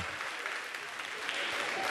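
Audience applause for a contestant at the Miss Guyane beauty pageant, a brief, steady wash of clapping from a crowd.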